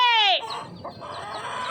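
Rooster crowing loudly and close, cut off after a moment and followed by softer hen clucking and farmyard bustle.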